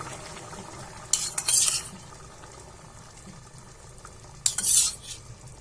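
Spoon stirring cream into dal makhani in a pot, heard as two short bursts of scraping and clinking about three seconds apart, close and fairly quiet against a low background.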